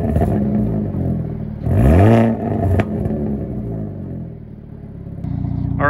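A Hyundai Elantra N engine revs sharply through dual exhaust in N mode, rising to a loud roaring peak and falling back, then a deep exhaust burble idles before another rev begins.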